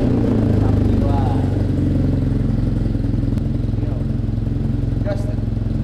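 A motorcycle engine runs nearby, the Yamaha Jupiter Z or BMW R nineT, with a loud, steady, throbbing idle and mild throttle blips, while people talk over it.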